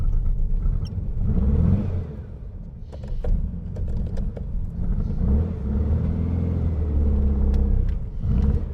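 A hot-rodded 1951 Volkswagen Beetle split-window with a 1600 cc engine idles and revs nearby, a steady loud air-cooled rumble that swells and dips.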